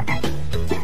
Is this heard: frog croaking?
yes